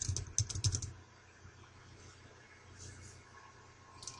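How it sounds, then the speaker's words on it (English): Typing on a computer keyboard comes as a quick close burst of clicky keystrokes at the start, then fades into faint room noise with a few scattered soft taps. "Type Document in Find What."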